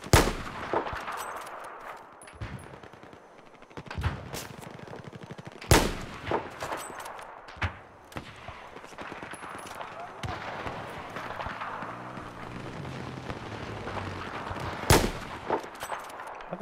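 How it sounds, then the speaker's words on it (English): Gunfire in the Battlefield 4 multiplayer video game, scattered sharp shots and bursts over a busy, noisy battle background, of moderate loudness. "Seriously, you're just gonna shoot the dirt?"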